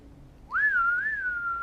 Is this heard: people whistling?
yes